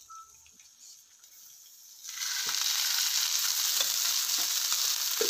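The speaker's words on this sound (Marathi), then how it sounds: "तशाच आपल्याला वालाच्या शेंगा आणि वांगे पण ह्याच पॅन मध्ये परतवून घ्यायचे आहे" After a quiet start, broad beans and brinjal drop into oil in a pan and a loud, steady sizzle bursts up, with light crackles and stirring scrapes continuing close by.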